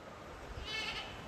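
A goat on a farm lets out a single short, quiet bleat, faint and distant against a low background.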